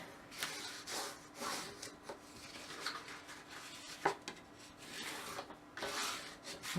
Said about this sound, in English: I'm going to use my bone folder and fold and burnish.